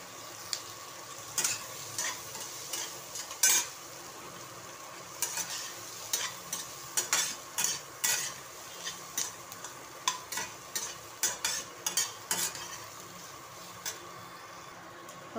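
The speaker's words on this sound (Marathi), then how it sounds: "कांदा चांगला भाजून घ्यायचा." Onion fries in oil in a pan for dhaba-style paneer bhaji, a soft continuous sizzle broken by frequent rhythmic scraping clicks of a spoon stirring, close up and with no one speaking.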